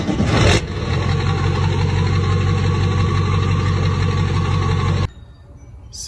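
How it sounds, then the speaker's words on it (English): A truck engine idles steadily through a six-inch garbage-truck-style stack exhaust, a loud, even low rumble that cuts off abruptly near the end, leaving quieter background. "After that, I did a garbage truck stack."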